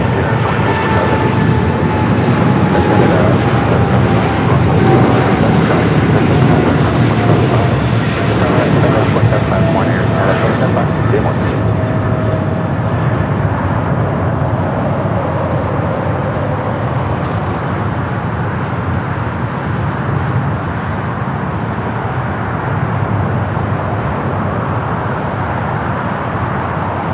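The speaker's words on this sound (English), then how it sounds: "That's the United Dreamliner that came in from Newark." A United Boeing Dreamliner airliner arrives at LAX after a flight from Newark, a loud, sustained jet roar with a slowly falling whine that gradually recedes over nearly half a minute, mixed with voices and radio chatter.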